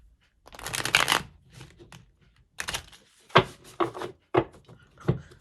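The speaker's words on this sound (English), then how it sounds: "My shuffling has been a hot mess." Tarot cards being shuffled by hand, several close papery riffling bursts with short pauses between them, fairly quiet and with no talking.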